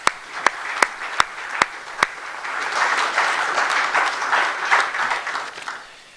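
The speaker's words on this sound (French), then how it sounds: "On peut les applaudir si vous voulez bien." A few sharp separate claps at the start swell into warm, sustained applause from an assembly at a plenary session welcoming newly elected members, then fade out.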